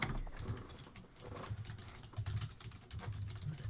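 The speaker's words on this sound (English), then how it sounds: "The typing, yeah, I know." Quiet clatter of keys on a mechanical keyboard, a rapid irregular stream of soft clicks heard faintly in the background of a room.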